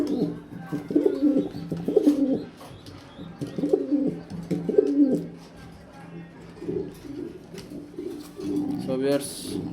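Pigeons coo in soft, repeated low throaty phrases that come close and fairly loud, pausing now and then, with a person talking alongside.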